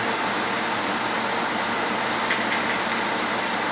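An engine runs under load during dyno work, a steady, loud, broadband roar that stays constant throughout.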